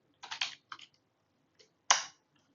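Keystrokes on a computer keyboard while code is typed for a rock paper scissors program: a quick burst of clicks, a short pause, a few more taps, then one louder key press, close and isolated.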